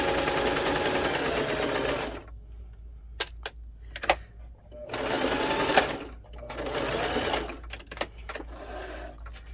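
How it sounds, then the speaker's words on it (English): A sewing machine stitches through a paper library pocket in loud, rapid mechanical bursts with short quiet gaps broken by clicks and taps, then a brief back stitch; a voice talks faintly under it. "I even do a little back stitch too, just to make sure the stitches stay in"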